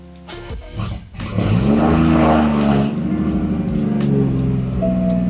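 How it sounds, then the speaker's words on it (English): A BMW 335i (F30, N55) engine cranks and fires after a new ignition coil install, settling into a steady, smooth idle hum close to the microphone with no talking. "so now to turn the car on."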